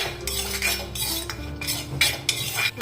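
Sunflower seeds are dry-roasted in a pan and stirred, with repeated close scraping and metallic clinks of a utensil against the pan in an uneven rhythm.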